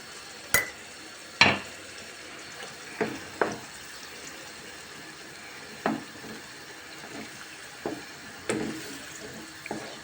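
Menemen with tomato sauce bubbling in a pan, a steady low sizzle broken by about ten sharp scraping clicks and clatters of a spoon stirring at irregular intervals, close and moderately loud with no voices.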